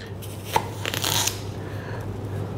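A knife slices through a watermelon with a crisp crunch and a few short cracking and scraping sounds, close up over a low background hum.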